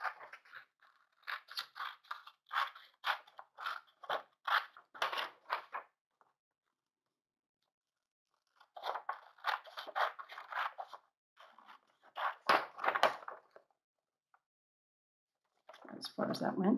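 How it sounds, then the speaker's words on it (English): Scissors cutting paper for a collage, bursts of crisp snipping and rustling in separate runs with quiet gaps between. "I'll cut just a little bit to the inside of it"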